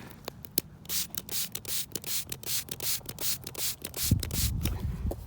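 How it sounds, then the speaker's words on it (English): Rapid repeated hissing spritzes of water from a spray bottle onto a metal-detected coin outdoors in the sun, a quick rhythmic series of short bursts close by. "Alright, I'm gonna spray it."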